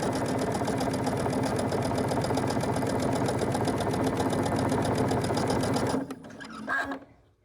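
A sewing machine back stitching a seam on a fabric kitchen boa runs at a fast, even mechanical chatter for about six seconds, then slows and stops, leaving a few faint handling sounds.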